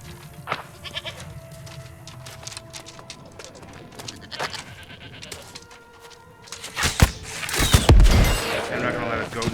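Goat bleats in a video game set on a high ledge, scattered among game effects and a burst of loud action near the end, with background chatter and noise throughout.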